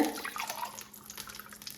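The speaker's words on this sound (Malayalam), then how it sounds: "ഇനി ഇതിലേക്ക് പാകത്തിലേക്കുള്ള വെള്ളം ഒഴിക്കാം" Water pours briefly into a pot of chicken biryani rice, a soft splashing trickle that fades to faint drips in a quiet room.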